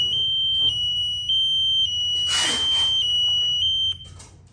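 A capacitance sensor's alarm beeps in a steady, loud high-pitched tone, sounding repeatedly in short segments, with a brief burst of hiss partway through before the tone cuts off near the end.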